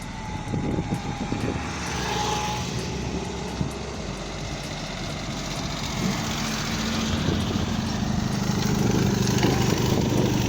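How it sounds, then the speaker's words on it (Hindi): A motorbike ridden back toward the listener outdoors, a steady engine drone that grows gradually louder as it nears over roughly ten seconds, with constant broadband background noise. "तो भाई मेरा वापस आ रहा है फिलहाल बाइक लेके"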